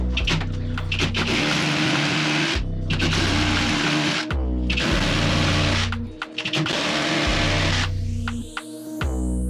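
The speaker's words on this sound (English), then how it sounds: "So we just mark our holes up and get them drilled out." A power drill bores holes into a bathroom wall to mount a toilet cistern, a loud droning whine in several sustained bursts separated by short pauses, ending with a higher, thinner spin-down.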